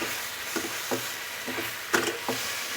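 Chicken with whole garlic and onions sautés for a Bengali-style curry, with a moderate sizzle under repeated spoon scrapes and stirring knocks about every half second.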